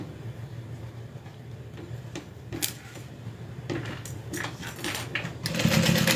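A sewing machine stitches through many thick layers of a crossbody bag, backstitching along the bottom; a low, fairly quiet steady whir with scattered clicks and knocks, rising slightly toward the end.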